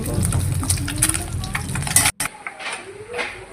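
Fish roe frying in a pan and being stirred, a dense crackling sizzle with scraping strokes that drops out briefly near the end, then resumes more softly with a few clinks.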